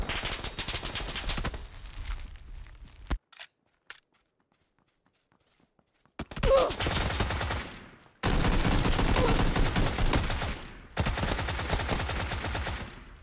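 Tommy gun bursts in PUBG, loud rapid automatic fire in several long strings separated by a near-silent gap, with footsteps between.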